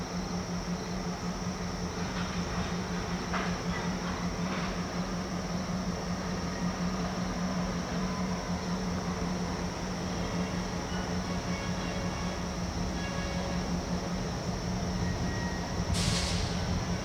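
A freight train locomotive shoving back across a road crossing rumbles steadily with a constant low drone and engine hum, a faint hiss and a brief squeal near the end.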